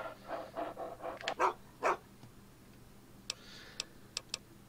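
Dog companion panting in the video game Fallout 3, a run of soft rhythmic breathy puffs over the first two seconds, followed by a few sharp ticking clicks in a quiet game ambience.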